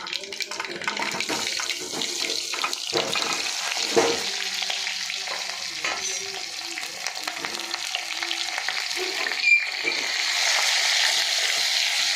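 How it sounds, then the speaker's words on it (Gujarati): Stuffed mixed vegetables drop into a hot pressure cooker with oil, asafoetida and curry leaves, setting off a loud crackling sizzle that stays busy and close, with clattering stirs and knocks throughout. "હવે આપણે આ જે બધું ભરેલું રાખ્યું છે એને આપણે કુકરમાં ઉમેરી દઈશું"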